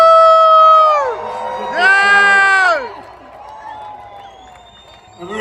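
Rally crowd in Mosinee, Wisconsin cheering and applauding, with loud sustained voices rising and falling in chant-like swells over about three seconds before fading to a lower roar and picking up again at the end.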